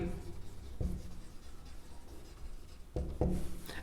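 Pen or marker writing out a trigonometry solution on a board or paper, a steady soft scratching and rubbing with a few sharper taps, close and quiet, with no speech.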